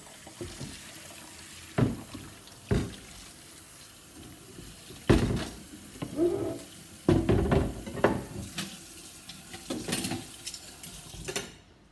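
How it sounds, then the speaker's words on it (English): Hot tap water runs into a kitchen sink as utensils are rinsed, with intermittent splashes and clattering knocks of items being handled, fairly close and moderate in level, no voices. "Now I like to give all my stuff a rinse with hot water."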